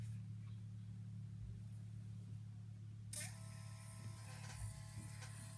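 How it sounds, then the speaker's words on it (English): A compact photo printer, a Polaroid Zip or HP Sprocket, starts up partway through with a faint whirring feed and motor hum over a low steady background drone, quiet and close. "And now this one's printing."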